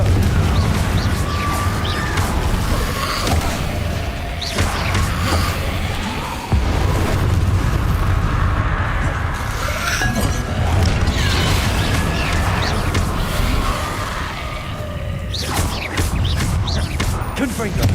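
Confringo fire-blasting spell explosions in Hogwarts Legacy, several loud booming blasts and crashes amid combat noise, with a voice talking between hits.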